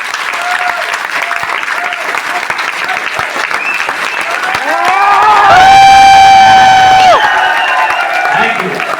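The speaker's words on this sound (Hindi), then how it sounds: "ताली बजाओ" Audience clapping at a speech, a dense, loud wash of applause running throughout, with a rising whistle-like tone in the middle and voices underneath.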